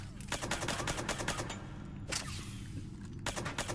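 Rapid automatic gunfire in the video game Mass Effect 3, dense bursts of repeated shots up close, pausing briefly before another short burst.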